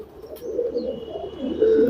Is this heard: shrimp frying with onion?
no